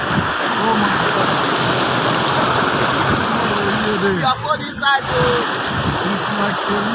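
Floodwater rushes over the Emede–Olomoro–Oleh road, a loud, constant broadband roar of flowing water that runs the whole time with a brief dip midway.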